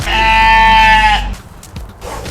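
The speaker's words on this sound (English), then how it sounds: "You can hear the sheep going" A sheep on a small winter homestead gives one loud, close, drawn-out bleat lasting about a second, followed by faint rustling and scuffing.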